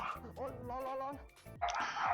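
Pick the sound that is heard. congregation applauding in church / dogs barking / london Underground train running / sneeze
dogs barking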